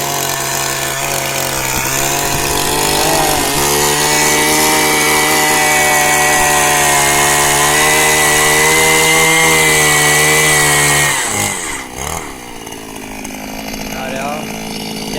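A Newborn M52 wheeled petrol earth auger drills into soil with a loud, steady two-stroke engine drone for about eleven seconds before the revving drops off, with voices talking over it.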